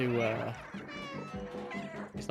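A cat in the video game Stray meows repeatedly in a quick, macro-triggered string of bright, close cries under a voice talking.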